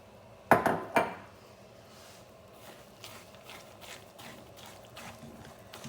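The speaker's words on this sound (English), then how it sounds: "now that the sugar's melted and it's starting to bubble up good, we're going to add our peanuts" Peanuts tipped into bubbling melted sugar for peanut brittle, two sharp clattering hits at the start followed by quieter scraping stirs against the pan, faint overall.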